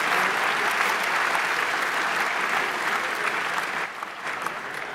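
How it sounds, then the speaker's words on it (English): Sustained applause from a conference audience at a security talk, a dense steady clatter of many hands close by that holds level for most of the stretch and thins slightly near the end. "can we get a round of applause for all the guys who got stuck back there"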